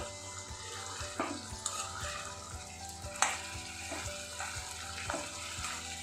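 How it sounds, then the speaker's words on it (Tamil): Quail pieces fry softly in a little oil in a pan on a medium flame, a gentle continuous sizzle broken by light clicks and scrapes as the pieces are stirred. "எண்ணெய் எல்லா இடத்தையும் படுற மாதிரி லைட்டாக கிண்டி விட்டு அப்படியே மூடி வச்சுருவோம்."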